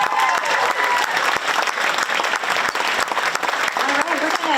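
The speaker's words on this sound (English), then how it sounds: "applause for Emily and Lila" Audience applause fills a school winter concert for 9th graders, a dense steady clapping from a large crowd that holds loud and even throughout, with a few scattered voices mixed in.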